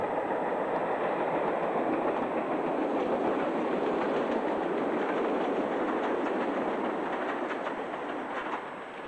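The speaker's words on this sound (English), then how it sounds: "Train coming, so might as well have a break." A train passes close by with a broad, continuous rumble and faint rhythmic clatter of wheels on rails, loud throughout and easing slightly at the end, with no talking.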